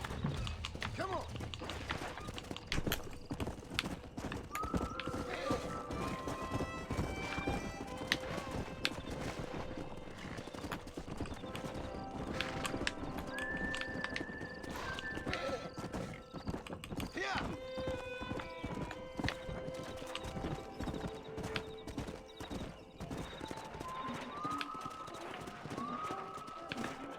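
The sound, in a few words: horse galloping hooves in video game Red Dead Redemption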